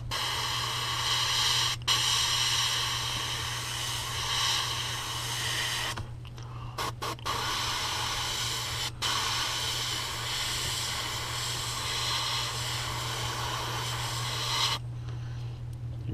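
Airbrush spraying paint onto a crankbait through a stencil, a steady continuous hiss with a few brief pauses as the trigger is released, close and even throughout.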